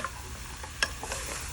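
Diced potatoes and canned diced tomatoes stirred into a pot of beef stew, a quiet simmering hiss broken by a sharp utensil clink and a few soft scrapes.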